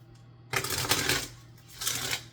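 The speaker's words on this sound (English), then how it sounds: "I'm going to do one more shuffle." Tarot cards are riffled in a quick shuffle at close range. Two bursts of crisp flutter are separated by a short pause, with no talking over them.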